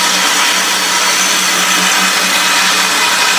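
A grinder with a soft leather platen puts secondary bevels on a Cu Go Mai dagger held in a scrap angle-iron jig, giving a steady, loud, close grinding whir with no break.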